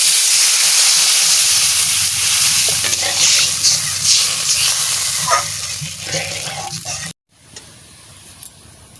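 Water is poured into a hot pan of jiol fish curry with home-grown white greens, raising a loud, steady sizzling hiss with bursts of steam. The sound runs continuously, then cuts off abruptly near the end, leaving faint quieter sound.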